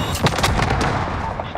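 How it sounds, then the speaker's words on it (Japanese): A cruise missile launch in Call of Duty: Modern Warfare, with a loud, sustained blast of roaring fire and rumbling booms filling the moment, heard close and dense without a break. "こちらファルコン巡航ミサイル発射。"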